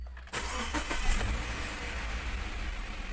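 A Subaru car engine cranks and catches after an engine wash, then settles into a steady low idle close by, heard alone without talk.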